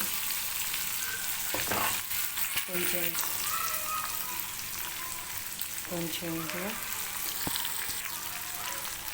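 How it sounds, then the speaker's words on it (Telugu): Spices and sugar fry in a pan with mango peels for a mango peel pickle, giving a steady sizzle with occasional stirring scrapes, close and moderately loud throughout. "కొంచెం షుగర్ వేసేసి బాగా ఇలా వేపేసుకోండి."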